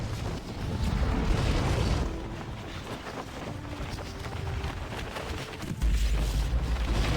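A deep, rumbling sonic boom in a Superman video game rolls through amid a roaring, windy wash of noise, followed by a second low thud near the end.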